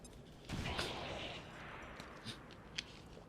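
Grenade blast in the video game XCOM 2: Long War, a sudden explosive boom thrown at enemy troopers that rumbles and fades, followed by a few sharp game gunfire and impact cracks, fairly faint overall.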